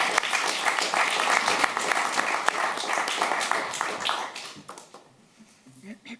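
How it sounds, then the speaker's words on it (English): An audience at a talk on drones in war claps warmly, a dense, loud burst of applause that holds steady and then fades out over the last couple of seconds. "Can I have a warm applause?"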